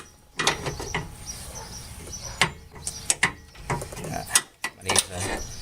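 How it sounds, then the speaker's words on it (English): A socket wrench ratchets on Tacoma bumper bolts, giving close, uneven clicking strokes with sharp metallic snaps and short pauses between them. "I need a smaller socket wrench."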